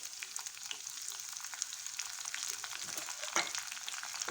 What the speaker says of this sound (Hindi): हरी मिर्च जब तड़के में डाली जाती है ना, फ्राई की जाती है